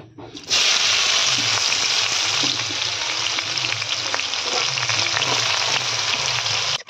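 Potatoes drop into hot oil in a home kitchen while a meat curry is being cooked. A loud, sudden hiss bursts in after a brief quiet moment and holds as an even, crackling sizzle until the end.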